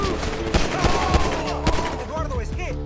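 Gunfire in Grand Theft Auto V cracks out in several sharp, rapid shots over a busy game soundscape, loud and close, with brief tonal effects between the bursts.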